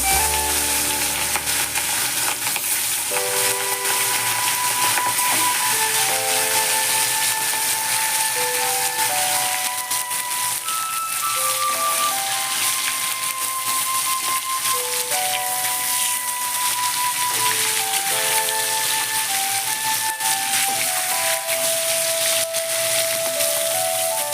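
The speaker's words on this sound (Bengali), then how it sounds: "মাছগুলো এবার আমি ভেজে নেব।" Catla fish pieces frying in hot oil in a home kitchen, a steady dense sizzle and crackle running unbroken throughout, with soft background music layered over it and no talking.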